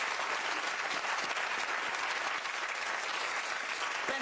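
Studio audience at a talk show giving sustained applause, a dense, even wash of many hands clapping that holds steady at full level from start to finish.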